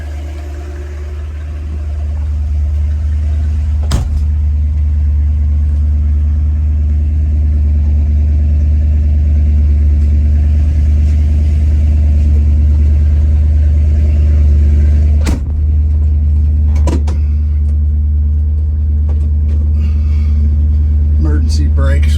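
A 1963 Ford Galaxie 500 XL with a 427 R-code V8, four-speed and correct exhaust and mufflers, rumbling steadily on the move, a deep continuous drone with a few knocks and bumps along the way.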